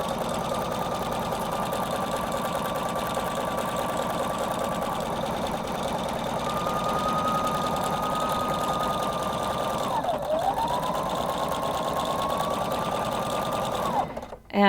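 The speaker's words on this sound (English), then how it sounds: "The machine fed it through beautifully, and I've got a nice stretchy stitch that's not going to pop the stitches when I put that on." Husqvarna Viking Designer Brilliance 80 sewing machine stitching stretch fabric, a steady humming whir held for long runs with a short dip and pause near the end.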